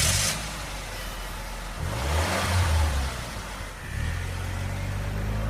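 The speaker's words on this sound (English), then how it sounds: "Ed and Lorraine hop in the car." A car engine revs and pulls away, with a brief swell of acceleration, a dip, then another rising rev, fairly close and alone.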